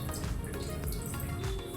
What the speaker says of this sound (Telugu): 1/2 కప్పు వరకు వాటర్ పోసుకుంటున్నాను.